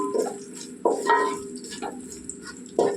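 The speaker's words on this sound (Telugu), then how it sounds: "ఉల్లిపాయలు బాగా ఎర్రగా ఎగాలండి కలుపుకుందాం" Finely sliced onions fry in a pan for veg pulao while a spoon stirs them, scraping and clinking against the pan every second or so over a steady sizzle, close and fairly loud.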